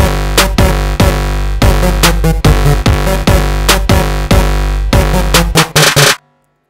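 A trap beat with heavy distorted sub bass thumps under rapid hi-hats and punchy snares, loud and dense throughout, ending in a quick snare roll before cutting to silence.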